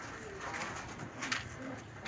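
Pigeons on a rural farm coo softly at close range, a few low murmuring calls over faint outdoor background.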